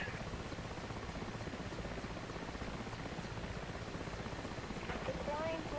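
A Mi-8 helicopter in the DCS combat flight simulator drones with a steady, dense rotor and engine roar that holds constant throughout, moderately quiet, with brief tonal chirps near the end.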